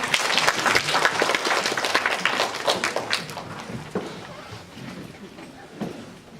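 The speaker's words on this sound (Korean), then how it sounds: "임혜선 원장님을 큰 박수로 모시겠습니다" Loud audience applause at a Sinchon-dong residents' meeting in Siheung, welcoming a speaker to the front: a thick burst of clapping that gradually thins and fades over several seconds.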